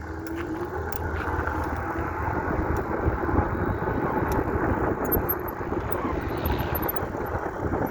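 An airliner taking off from a busy airport, a steady low engine rumble and roar heard at a distance with wind noise over the microphone, holding evenly for several seconds without voices.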